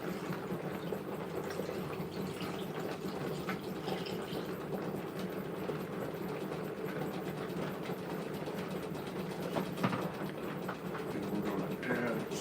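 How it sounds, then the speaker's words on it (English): Vinegar pours steadily over a pile of rocks, a continuous close splashing and fizzing wash that lasts throughout at an even level. "We're just going to pour the vinegar over these rocks."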